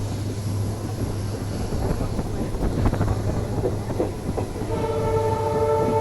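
The Narkher Intercity Express pulls away from Umri station with a continuous rumble and rhythmic clatter of wheels over rail joints, loud and near, and a sustained horn sounds toward the end.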